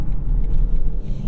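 A 2021 BMW X5 45e plug-in hybrid SUV in sport mode holds a steady, loud low engine rumble from inside the cabin while shifting into second gear, with no break in the drone.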